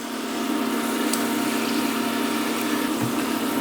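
Egg rolls filled with leftover brisket frying a few at a time in hot oil, a loud, continuous bubbling hiss that stays steady and close, with no one talking over it.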